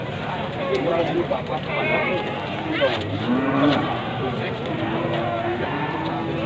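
Boer goats at a crowded livestock market in Trenggalek, sending out several drawn-out bleating calls over a steady wash of market crowd noise.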